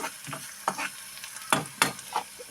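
A spoon stirs frying food in a pan before capsicum goes in, giving a soft steady sizzle broken by a handful of sharp scraping clacks of utensil on metal, close and clear with no voices.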